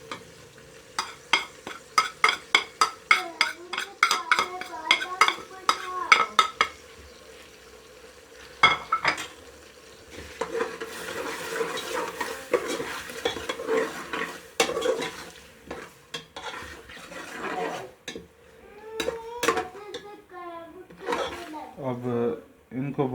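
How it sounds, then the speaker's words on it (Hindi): Mutton being roasted with spices in a pot for Delhi-style degi biryani: rhythmic scraping and clinking of a spoon against metal with a steady sizzle underneath, and a person talking through much of it. "अब इनको भूनेंगे हम, मसाला बनाएंगे अच्छी तरह से"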